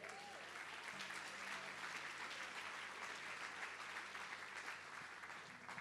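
Church congregation applauding during a Brazilian evening worship service, a sustained wash of clapping filling the hall with a faint low hum beneath it.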